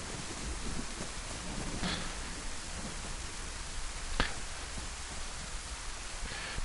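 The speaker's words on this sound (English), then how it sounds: "The rain is crazy lethal" Steady hissing rain falls in the DayZ video game, a dense, even wash of noise with a few faint isolated ticks and no voices.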